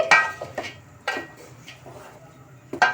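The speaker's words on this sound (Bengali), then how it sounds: "তো আমি একটু নাড়াচাড়া করে নিচ্ছি।" Coconut pieces stirred in a pan while making Barishal biscuits: a few sharp metallic clinks and scrapes of a utensil against the pan, spaced irregularly and fairly close, over quiet background.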